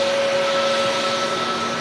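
Ryanair Boeing 737 Max with CFM LEAP-1B engines arriving at Manchester Airport: a steady, loud broadband jet roar with a sustained whining tone, constant throughout with no talk.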